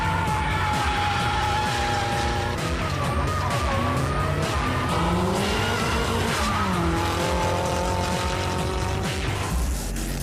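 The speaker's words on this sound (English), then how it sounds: "we unleash Danny's Toyo-sponsored monster on the track for the first time" A Toyo-sponsored race car howls loudly on a track, its engine note rising and falling as the tyres skid and squeal, filling the whole stretch without pause.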